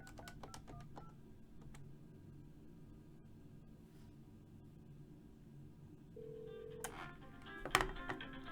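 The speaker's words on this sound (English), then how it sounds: "I take Kathy's phone and I dial my cell phone number" A cell phone number is dialed on a phone keypad: a quick run of short, clipped tones at the start, then quiet hum, then a few more tones and clicks near the end, all faint and close.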